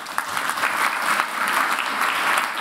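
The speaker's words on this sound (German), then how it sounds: "Applaus" Audience applause fills a debate forum hall in Hamburg, a dense steady patter of many hands clapping at moderate loudness with no pauses.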